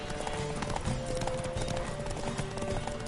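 Rapid hoofbeats of a horse galloping in The Witcher 3, a steady clip-clop rhythm running the whole way through over game music, with no voices.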